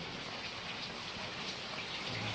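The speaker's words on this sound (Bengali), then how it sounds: "আর বৃষ্টি হচ্ছে" Steady, even hiss of rain falling, soft and constant with no voices.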